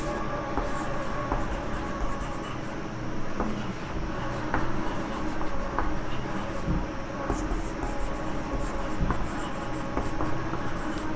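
Chalk or marker writing on a board during a maths lesson, a steady scratching and rubbing stroke over a continuous low background rumble, close and fairly loud, with no clear talk.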